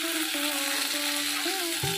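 Fish pieces frying in hot oil for fish 65, a steady loud sizzle with some stirring and faint scraping as the pieces are lifted out, no talking.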